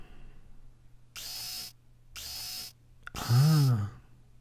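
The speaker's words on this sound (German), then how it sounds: "Habe ich da Löcher reingebohrt?" Three short bursts of a power drill boring holes in the video game Deponia, each a harsh whirring buzz lasting about half a second, the last longer and ending in a low warbling hum, over quiet game ambience.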